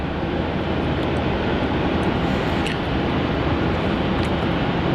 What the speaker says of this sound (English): our next departure of runway 27 is QF flight 679 heading off to Adelaide in the 737-800 wearing the Old Roo livery